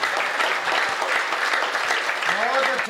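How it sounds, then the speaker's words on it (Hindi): Audience applause at a Hindi kavi sammelan poetry recital, steady, dense clapping from a large crowd lasting throughout, with a voice rising briefly near the end. "तालियां थोड़ी बड़ी कर दें आप"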